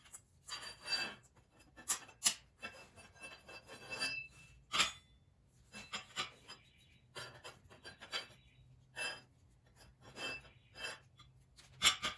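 A small plastic piece on a third-generation Ram truck grille is worked into place, giving short scraping and rubbing bursts with a few sharp clicks, close and fairly quiet, spread unevenly through the stretch.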